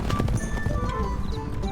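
Horses gallop in the medieval strategy game Stronghold Legends, a rapid, dense clatter of hooves that is close, loud and continuous across the short stretch.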